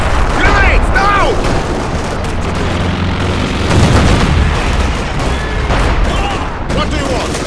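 Battle in Company of Heroes 2 with grenades going off among gunfire: dense, loud crackling shots and booming blasts overlap continuously, with voices heard in the mix.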